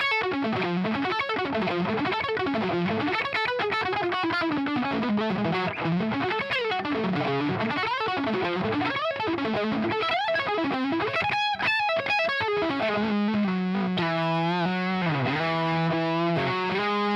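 Electric guitar played through amps with heavy distortion and effects, continuous fuzzy chords and bending lead lines sustained loudly throughout without pause.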